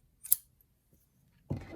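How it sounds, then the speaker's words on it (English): Scissors give a single crisp snip while cutting crochet yarn, heard close in a quiet room, followed a moment later by a dull handling thud. "And then you cut your yarn."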